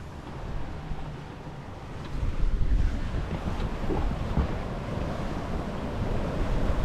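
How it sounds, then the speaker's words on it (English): Steady wind roars across a sailing yacht under spinnaker at sea in the Mediterranean, a broad continuous rush with waves washing around the hull, growing slightly louder partway through and never pausing. "So the wind's picking up now."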